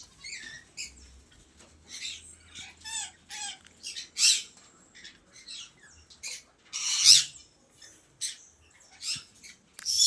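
Parrots of several varieties squawk and chirp in a park aviary, with bright, scratchy calls bursting out repeatedly from close by over about ten seconds, some sharp and loud, others quick and twittering, and nobody speaks.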